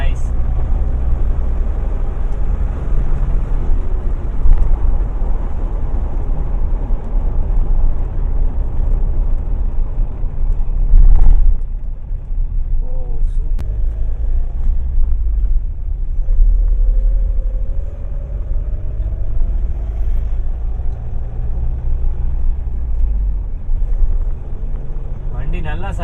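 A car fresh from a service centre drives along, its low engine and road rumble steady and close throughout, with a few brief bumps and a faint rising whine partway through.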